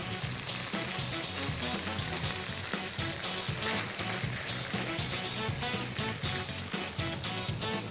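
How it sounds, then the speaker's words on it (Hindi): Cream poured into a hot pan for a Marrakesh Moroccan chicken dish sizzles and fries steadily, a dense, continuous hiss with crackling bursts throughout, loud and close with no talk over it. "इसके अंदर मैं डालूंगा क्रीम"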